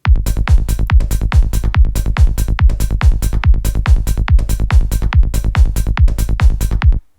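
A programmed drum loop repeats in an even, driving rhythm of heavy low kicks and sharper hits, loud and alone, stopping abruptly at the end.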